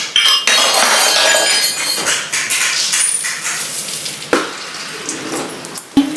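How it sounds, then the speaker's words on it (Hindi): Water runs and pours into a glass bowl to soak tamarind, a steady splashing stream that tapers off, followed by a few sharp clinks of glass near the end. "इमली भिगो रही हूँ।"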